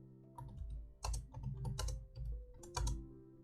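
Keys clack on a computer keyboard as a game title is typed, a close series of uneven bursts of quick taps with short pauses, no one talking.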